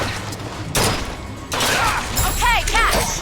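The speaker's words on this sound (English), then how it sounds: "Why is it burst fire all of a sudden?" Bursts of gunfire from Bioshock Infinite, short clustered volleys of shots with booming impacts and some mechanical clatter, loud and close, with whistling tones near the end.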